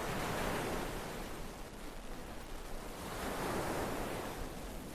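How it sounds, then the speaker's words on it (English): A tape played in the video game Flathead gives a steady wash of ocean waves mixed with hiss and static, swelling gently and fading, continuous with no voices. "It's just waves and static"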